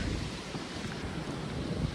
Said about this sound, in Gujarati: ફૂલ પવન અને બધું ભેગું છે